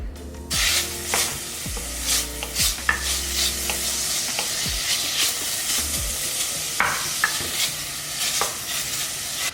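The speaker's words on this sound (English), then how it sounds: "We're gonna start adding the bacon while the pot is still a little bit cold because we don't want it to burn." Bacon frying slowly in a pot for carne en su jugo, a continuous close sizzle with spattering crackles and repeated scraping stirs throughout.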